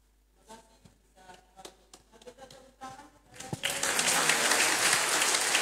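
Church congregation breaks into loud, sustained applause at a Sunday service during the fifth week of Lent, rising suddenly after a stretch of scattered taps, handling noise and speech, then holding steady to the end.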